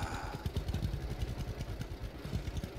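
A tractor engine straining in the Lumberjack's Dynasty video game, a close, steady chugging rumble with rhythmic clattering pulses throughout.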